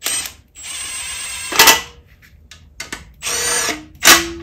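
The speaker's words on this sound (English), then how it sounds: "I use my impact. I don't torque them with my impact. I just snug them down, save time." An impact wrench snugs down bolts on a Kennedy adapter plate joining a Subaru engine to a VW transaxle: several loud, close whirring bursts of varying length, separated by pauses and clicks.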